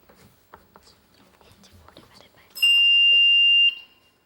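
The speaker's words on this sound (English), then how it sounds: "The bell beat you to it" A quiz buzzer bell at a junior schools' quiz competition sounds one loud, steady electronic tone lasting about a second, right after quiet murmuring and faint speech.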